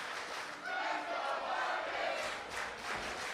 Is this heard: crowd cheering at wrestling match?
yes